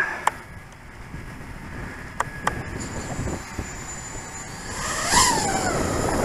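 An x220 5-inch racing quadcopter on RaceFlight One firmware arms outdoors on a windy day: a faint electronic whine and a brief rising motor chirp near the end, under steady gusting wind noise.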